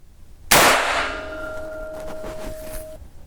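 A single sharp report from an Aguila Super Maximum 30 grain .22 LR round, followed by a ringing metallic clang that fades over about two seconds, loud and close with no talk.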